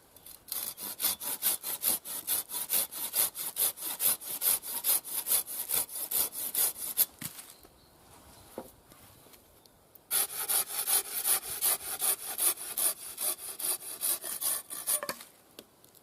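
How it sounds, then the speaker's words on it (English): A hand saw cuts through wood in steady back-and-forth rasping strokes, loud and close, then pauses briefly before the sawing resumes for several more seconds. "So I'm going to cut a few pieces off this with the saw now and make a few notches."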